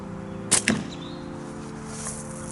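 An Axiom X slingshot fires a 9.5 mm steel ball: a sharp snap of the release followed a split second later by a second short crack, then a faint steady background hum.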